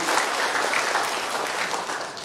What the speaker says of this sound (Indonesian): Tepuk tangan untuk beliau.